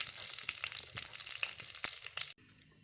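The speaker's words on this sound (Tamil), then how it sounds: "நான் இதில் முதல்ல கடுகை சேர்த்துக்கொள்கிறேன். கடுகு நல்லா பிடித்து பொரியட்டும்." Mustard seeds frying in hot oil crackle and splutter with dense, sharp pops close up, then cut off abruptly near the end, leaving a quiet hiss.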